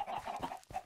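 Chickens on a chicken farm in the Minecraft video game give a brief burst of several quick clucks.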